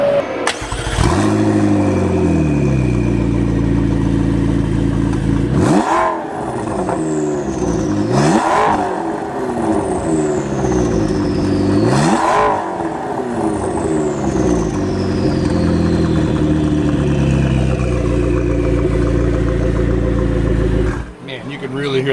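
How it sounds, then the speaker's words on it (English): A Fabspeed-modified McLaren MP4-12C Spider with a full aftermarket exhaust starts up and is revved repeatedly, three loud rising and falling revs over a rumbling idle with turbo whine, close and powerful, ending in a sharp cutoff. "Let's go ahead and give it a start up. Hear the full exhaust revs."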